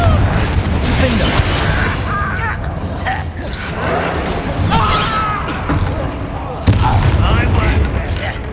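Confringo fire-spell blasts from a Hogwarts Legacy battle, sounding as a dense run of booming explosive hits and crackling bursts, loud and layered with combat clatter and shouted voices throughout.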